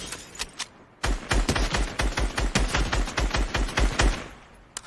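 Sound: sniper rifle shots in Fortnite video game

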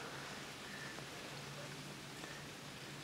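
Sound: rain falling at a lake during a carp fishing trip

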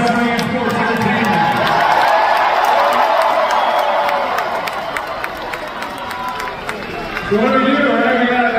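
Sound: wrestling arena crowd cheering

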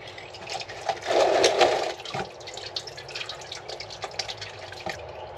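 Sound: engine oil draining from truck oil pan

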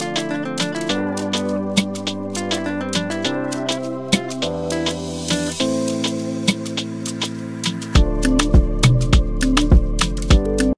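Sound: rise effect leading into crash cymbal, Ableton beat

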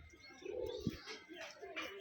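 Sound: pigeons cooing

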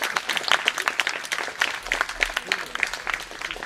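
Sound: audience applause

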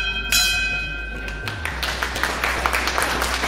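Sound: hospital end-of-treatment bell being rung

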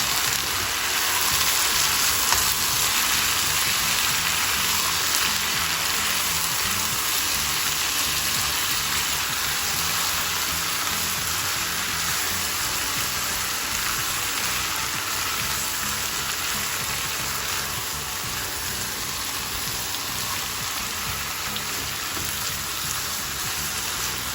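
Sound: meat frying with tomato, pepper and basil in pan

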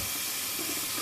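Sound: straight razor rinsed under running tap water

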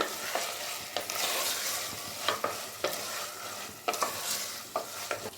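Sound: stirring minced mutton keema frying in a pan

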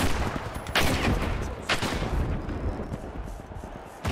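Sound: gunfire in the video game The Finals

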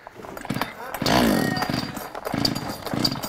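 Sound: power saw running

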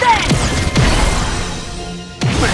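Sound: rolling shot kick in video game Inazuma Eleven Strikers

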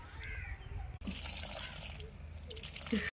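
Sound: watering rose plant soil

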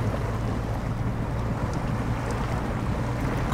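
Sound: off-road truck driving off in video game SnowRunner

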